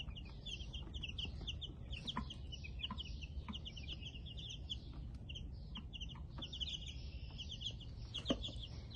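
A small flock of young Black and Buff Minorca chickens keeps up a continuous chorus of high chirps and soft clucks, close by and fairly quiet, with no voices.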